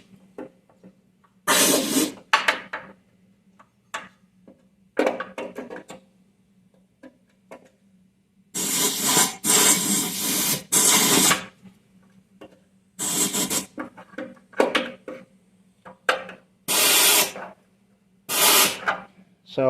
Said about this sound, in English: I'm just going to go around and blow in a little bit of air.